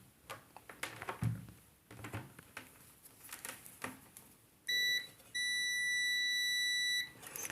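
Soft handling clicks and rustles while repairing a 12 V 20 A power adapter board, then a multimeter continuity buzzer beeps on a glass fuse: a short tone followed by a longer steady beep.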